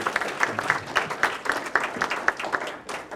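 Crowd applause for students at a year-end celebration of a mentoring program, a steady, fairly close round of many hands clapping with no speech over it.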